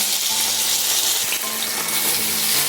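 Ginger paste and slit green chillies fry in hot oil in a pan for a chana paneer masala, a loud, dense, continuous sizzle with faint stirring underneath.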